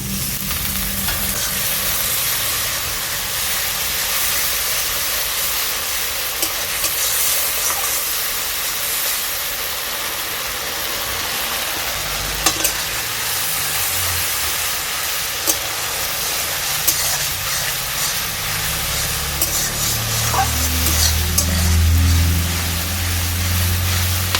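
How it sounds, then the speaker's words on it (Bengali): A spice masala with salt and a splash of water fries in a pan for a banana flower muri ghonto, producing a loud, continuous hissing sizzle with steam and occasional stirring knocks. "এবার মশলাটাকে আমি ভালো করে কষিয়ে নেব। আমি আর একটু জল দিয়ে দিচ্ছি।"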